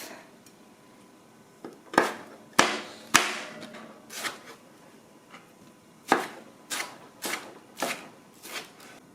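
A knife cutting food on a board while cooking, sharp separate chops spaced irregularly with some quick clusters, close and clear, no voices.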